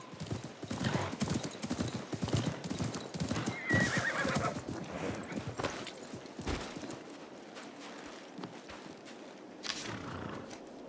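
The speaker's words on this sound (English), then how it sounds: "Oh no! Tufaha! My father's horse!" In the video game Assassin's Creed Mirage, a horse whinnies loudly while hooves clop steadily, with a busy, rumbling outdoor bustle behind it.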